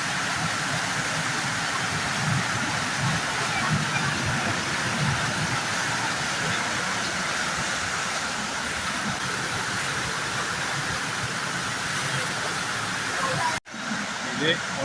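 Strong, fast-flowing water rushes over the stream at the Panchalingeshwar temple as a loud, steady, close roar that barely changes, with a brief sharp break near the end.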